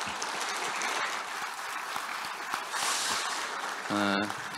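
Sustained audience applause at a political party assembly of newly elected lawmakers, dense clapping that fills the room, with a voice breaking in briefly near the end.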